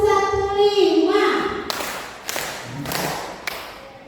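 Children in a classroom coding lesson clap in a counting rhythm game, a few spaced, sharp claps following a stretch of an adult's voice.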